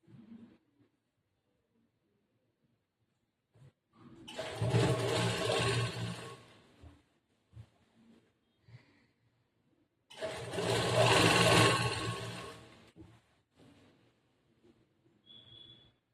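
A sewing machine stitches a churidar top in two clear bursts, each a few seconds of steady, fast whirring and clattering, separated by near silence and faint handling noises.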